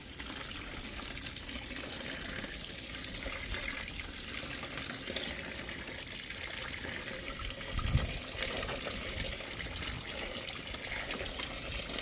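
Water from a tap running steadily into a bucket for soaking crystal-hunting finds, a continuous close splashing rush that stays fairly even with a small bump near the end.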